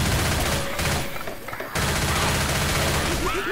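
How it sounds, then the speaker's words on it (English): Rapid, loud gunfire bursts from a shotgun in the zombie shooter Left 4 Dead, dense overlapping shots amid chaotic game noise and voices talking over it. "I love this shotgun."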